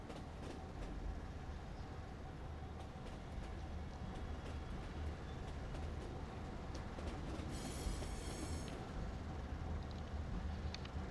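A train in the war game Foxhole rolls along with a steady rumbling drone and faint rail clicks, a brief metallic squeal near the end, no talk.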